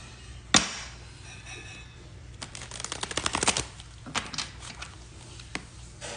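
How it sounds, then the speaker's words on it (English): Tarot cards are shuffled by hand in a quiet room: a sharp snap, then a quick riffling burst of fluttering card clicks and a few scattered taps afterward. "I gotta shuffle one more time."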